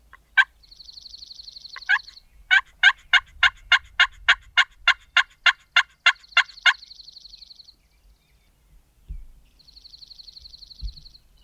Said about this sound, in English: they're just kind of gobbling on their own